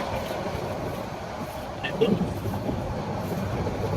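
Steady low rumble of a moving passenger train heard from inside the carriage on a journey to Cox's Bazar, continuous and fairly quiet, with faint voices in the background.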